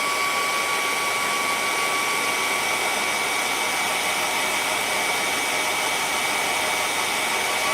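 Hair dryer blowing on a fresh painting, a steady, close whine with a constant pitch and an even airy hiss that runs unbroken the whole time, no voices.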